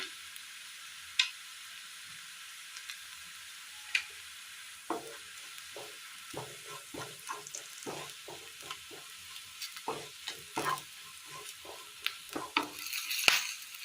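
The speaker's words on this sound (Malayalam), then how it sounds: "കറിവേപ്പില എല്ലാം നന്നായി ഒന്ന് മൂത്ത് കിട്ടിയിട്ടുണ്ട്" Curry leaves with coriander, chilli and turmeric powders frying in a pan, a quiet steady sizzle at first, then a run of quick spoon scrapes and clinks growing busier toward the end, close by.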